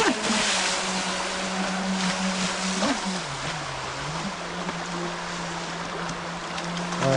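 A remote-control Bash Jet boat with a TPU hull runs on open water on its first outing: a steady high motor whine with shifting pitch over splashing and water noise, close and continuous.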